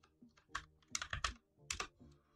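Quick bursts of typing on a computer keyboard while a file is renamed, crisp close clicks in short irregular clusters with pauses between.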